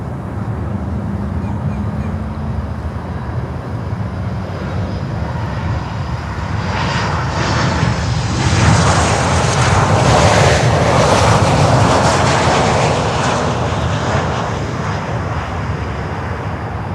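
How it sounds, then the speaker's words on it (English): A Boeing 737 MAX 8 jet arriving from Punta Cana at Miami airport approaches, its engine roar building from a distant rumble to a loud, broad rush that peaks midway and then slowly eases, with wind noise and no talk. "Our next inbound is Jet from Punta Cana with a MAX 8"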